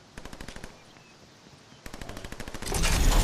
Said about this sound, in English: They're shooting near me